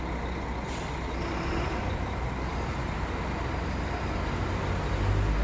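A toy bus makes a continuous rumbling engine sound with hissing noise, steady and fairly loud throughout, like a bus idling close by.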